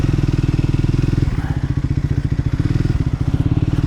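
Triumph Scrambler 400 X motorcycle engine idling close by, a steady loud low thumping pulse with brief dips in rhythm partway through, heard alone.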